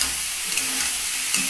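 Whole coriander leaves and spices sautéing in a pan, a continuous close hiss and sizzle with faint stirring movement over a brief moment, no voices.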